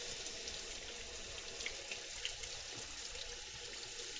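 Kitchen tap water runs steadily into a sink while fresh mushrooms are rinsed, a constant soft hiss and splash at low volume with faint dripping accents and no talking.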